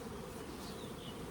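Honeybees buzzing at an open beehive during a colony split, a dense, steady drone from many bees close by, continuous and fairly quiet, with no talking.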